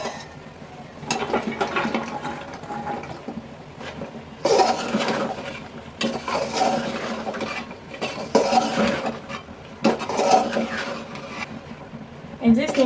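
Flat beans stirred into a spiced curry masala in a pan, with repeated scraping and clinking of a spoon against the pan in bursts while someone talks over it.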